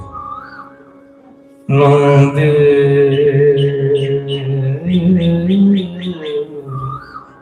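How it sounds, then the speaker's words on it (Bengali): An Asian koel calls in a burst of bird song, with repeated rising whistled notes riding over loud sustained music that enters after a quiet opening. "কোকিল ডাকছে"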